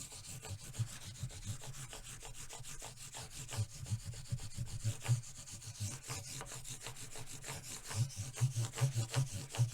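High-grit sanding pads polish metal parts on a Kalamazoo guitar, a steady close, scratchy rubbing in quick back-and-forth strokes that swell and ease, with no talk.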